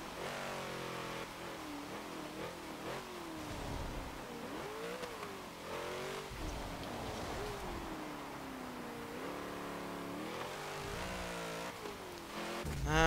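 A 1963 Volkswagen Beetle engine in Forza Motorsport 7 revs hard and continuously, its pitch climbing and dropping through repeated gear changes, loud and close with no talking.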